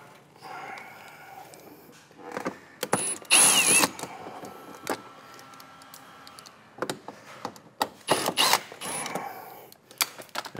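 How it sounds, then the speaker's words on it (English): Screw driven into a plastic clip on a 2014–2020 BMW 4 Series F32/F33/F36 M Sport front lip, with close mechanical ratcheting, creaks and clicks in short bursts, louder around the middle and near the end. "have that force applied when you're trying to fasten the screw into it"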